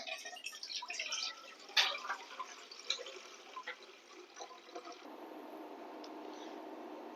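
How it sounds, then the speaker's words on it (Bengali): Soaking water from mung dal is poured off into another pot, a faint, close trickle and splash with scattered drips that thin out toward the end, heard alone in a quiet kitchen. "এবার আমি পানিগুলা এখান থেকে অন্য পাত্রে নামিয়ে নিব"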